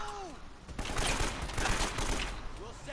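Sustained gunfire in the video game Uncharted: Drake's Fortune, dense bursts of shots layered over game ambience and music, loud and continuous for several seconds.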